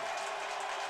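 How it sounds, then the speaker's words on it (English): A wrestling crowd gives brief, polite applause, a soft, even patter of clapping that lasts under a second. "Polite applause from the crowd."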